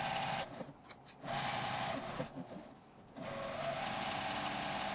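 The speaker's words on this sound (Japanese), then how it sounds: "両端に端ミシンをかけます" A sewing machine runs in bursts, stitching along the clipped edges of Daiso cut-cloth fabric for an eco bag. It whirs steadily and close, with two short pauses between runs and no talk.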